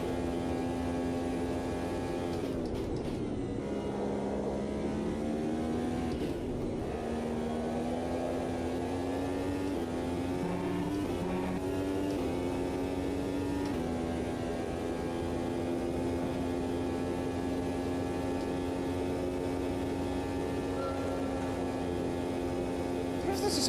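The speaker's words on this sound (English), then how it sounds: "This is the sound of the car scraping off the bottom." Low, grinding scrape of a race car's underside bottoming out in Automobilista 2, played in VR, running steadily under a constant engine drone with shifting tonal bands throughout.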